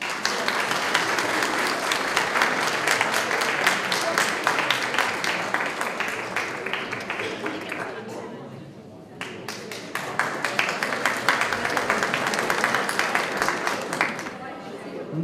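An audience applauds kindergarten children at an Elderly Day celebration in Tihany. The dense, loud clapping carries on throughout and dips briefly about halfway before swelling again.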